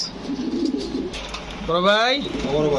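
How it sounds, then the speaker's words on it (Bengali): Pigeons of fancy breeds such as Bombay, Beauty and King coo in throaty, rolling bursts close by, with softer bird sounds and background murmur around them. "দর্শক দেখেন কবুতর কোয়ালিটি দেখে কবুতর নেবেন"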